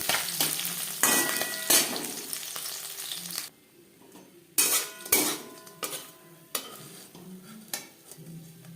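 Salted, turmeric-coated puti fish frying in a little oil, with steady sizzling broken by clinking utensil strokes and scraping against the pan, close up and fairly loud, no talking.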